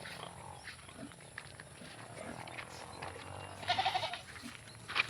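Young goats on a farm bleating in a few short, scattered calls, one louder cluster of cries toward the end, over faint background noise.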